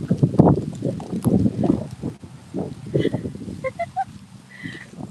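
Strong wind gusts outdoors during a snowy garden walk and buffets the microphone in uneven, rumbling bursts, with a few faint, brief chirp-like tones between the gusts.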